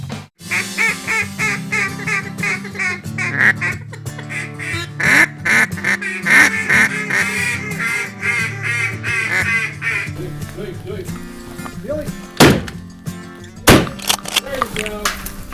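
Mallard ducks quack repeatedly in a loud, raucous chorus with honking geese mixed in, at a Missouri waterfowl hunt; people talk over the calls, and sharp gunshots crack near the end.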